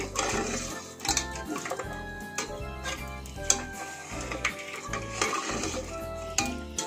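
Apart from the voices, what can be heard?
stirring coconut milk payasam in a pot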